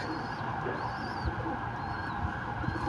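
Soft pigeon coos repeat a few times over a steady background hum, fairly faint and unhurried.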